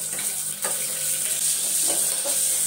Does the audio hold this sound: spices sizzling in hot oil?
yes